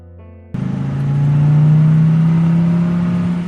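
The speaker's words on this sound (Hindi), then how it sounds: "अरे यह कौन गाड़ी से आ रहा है?" Cartoon vehicle approaching: after a short musical opening, a motor hum swells in and its pitch rises gradually, staying loud and steady as it draws nearer.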